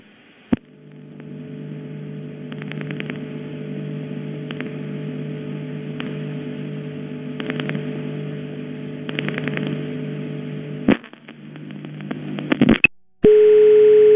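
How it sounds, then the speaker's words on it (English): Steady telephone line tones hum throughout while clusters of rapid mechanical relay clicks from an electromechanical crossbar telephone switch chatter intermittently, ending with sharp clicks and a tone change. "both this switch and the Russian switch have notable relay sounds"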